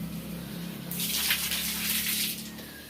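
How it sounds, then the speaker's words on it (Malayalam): Water gushes out as a home lily pond tub is tipped and emptied during cleaning: a rushing, splashing pour starts abruptly after a quiet moment, holds for over a second, then tapers off, close by. "വെള്ളം കമത്തി കളഞ്ഞു നോക്ക്."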